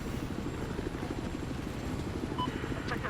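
A helicopter in the video game Battlefield 4 flies with a steady, loud, close rotor thump and engine drone that holds throughout, with a brief high tone near the end.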